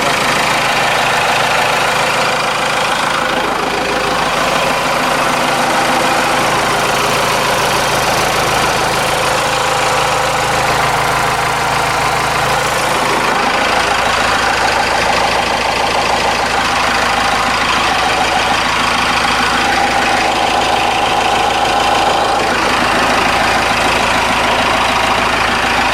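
A Cummins 4BT turbo diesel idles steadily after an oil change, a continuous, even engine drone that holds unbroken from start to finish, close by and fairly loud.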